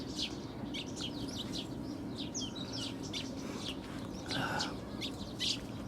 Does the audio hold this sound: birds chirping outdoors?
yes